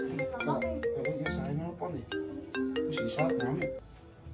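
A melodic phone ringtone plays in a Sundanese comedy sketch. Its stepped tune runs continuously and fairly loud, with voice-like sounds blended in.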